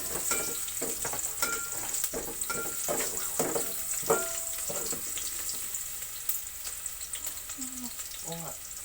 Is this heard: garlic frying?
yes